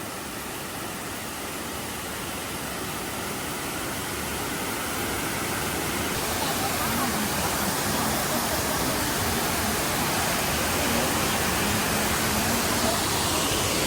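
Strong water current rushes over the Thousand Layers waterfall and stream, a dense, steady roar of broadband noise that fills the whole span without a break, close and loud with no clear speech.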